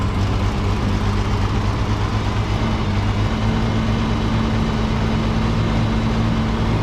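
A tractor engine (an 880) runs steadily after being flooded, with the choke out, giving a loud, even low rumble that holds without change throughout and no talking.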